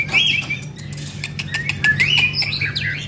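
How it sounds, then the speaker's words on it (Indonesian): A murai batu (white-rumped magpie-robin) perched on a hand outdoors, giving bright, rapid chirps and whistled phrases close by, with a steady low background hum. "Kita temukan murai pastol gacoran tuh."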